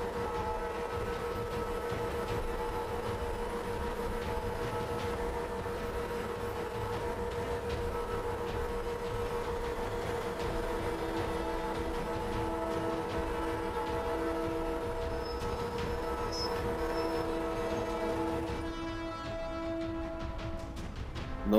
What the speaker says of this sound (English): I use that same pattern with my Big Daddy router bit from Beme to do the final shaping on these rails